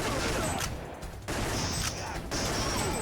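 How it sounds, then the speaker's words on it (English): Rapid arcade gunfire from shooting enemies in Time Crisis, loud bursts of overlapping shots filling nearly the whole stretch with two brief lulls. "Shoot the red guys because their first shots will always land."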